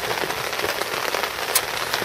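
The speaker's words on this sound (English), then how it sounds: "hopefully the rain will stop by then" Steady rain falls on a carp fishing lake, a dense, continuous hiss of drops with scattered louder patters close by, no voices.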